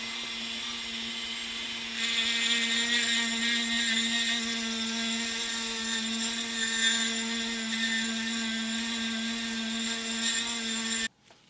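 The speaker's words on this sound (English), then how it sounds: "So I'm going to go ahead and just speed this up and mill some off the side" A high-pitched power tool whirs steadily while milling plastic off the side of a small Hot Wheels 70's van, a sustained buzzing whine that rises slightly after the start and stops abruptly near the end.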